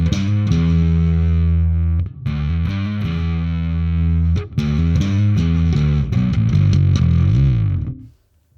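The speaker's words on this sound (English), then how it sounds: "And the distortion is much more angular and angry and aggressive." A heavily distorted bass guitar plays through a Blackstar Unity 700 bass amp. Chunky, aggressive notes and chords run for several seconds with brief gaps, then cut to silence at the end.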